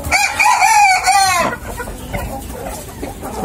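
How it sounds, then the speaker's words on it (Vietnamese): Free-range hens and roosters on a farm, with one rooster crowing loudly and close in a long rising call, followed by softer, scattered clucking from the flock. "mấy chục con gà mái với mấy chục con gà trống"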